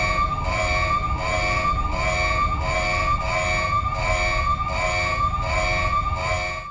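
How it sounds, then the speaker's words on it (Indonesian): A loud prison siren wails, cycling steadily up and down, repeating about every second with a constant rumble of engine noise beneath it. "sirine akan terus berbunyi memaksanya terjaga"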